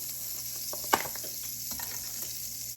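Peppers frying in a pan for Cajun chicken and rice, a continuous close sizzle with a sharp clink of a utensil near the start and light stirring scrapes after, no talking.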